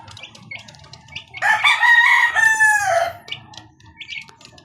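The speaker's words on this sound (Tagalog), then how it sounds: "Ito nga pala mga kamanok yung anak ng Raptor sweater natin do sa Pinos ko sa Gilmore sweater." A Raptor Sweater gamefowl rooster lets out one loud, close crow lasting nearly two seconds, with quieter clucks and soft farmyard chatter before and after.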